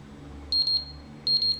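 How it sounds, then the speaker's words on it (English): A pressure unit emits two pairs of quick, high electronic beeps while its E button is held down to set standard pressure; sharp and close, with each double beep standing out over a faint background hum. "and you hear a double beep"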